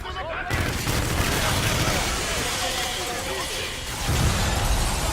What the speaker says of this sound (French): J'ai balancé une grenade pour rien.